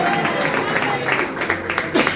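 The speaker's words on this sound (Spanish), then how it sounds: "Vamos a dar fuertes aplausos al Señor" Applause fills a church as the congregation claps for the Lord, a steady wash of hand claps with sharper individual claps standing out, heard beneath singing or voices.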